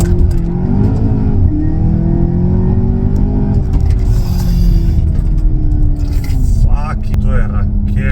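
Cupra car engine revving hard while driving, a loud continuous rumbling drone with rising and falling pitch as it accelerates, close and dominant, with someone talking over it.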